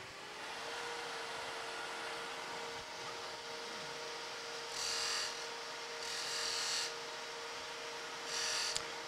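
A small skew chisel slicing wood on a lathe while turning small lidded boxes, heard as a few short, faint shaving bursts over a steady low hum of the running lathe.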